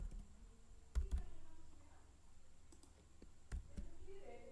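Code typed on a computer keyboard in a Flutter app, heard as a few faint, scattered keystroke clicks over a low room hum.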